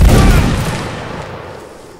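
A musket volley fired on command in Mount and Blade: Napoleonic Wars, a single loud booming discharge of many muskets at once that rolls out and fades over about two seconds.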